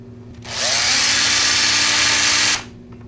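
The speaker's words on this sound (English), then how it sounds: "Once I've drilled the hole" A power drill bores out a hole in the output arm of a small micro crawler winch, with one loud, steady, high whine of about two seconds, close up, that starts and stops abruptly.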